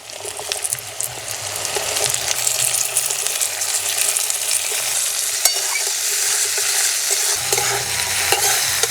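Cauliflower and potato fry in white oil over low heat in a pan, a loud continuous sizzle with scraping stirring strokes throughout, no voices.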